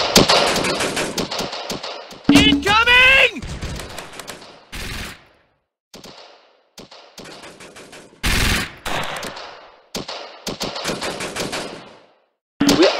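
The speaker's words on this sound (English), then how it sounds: "Under heavy fire." Heavy video game gunfire crackles in dense, loud bursts of rapid shots, broken by short pauses and a few lone blasts across the stretch.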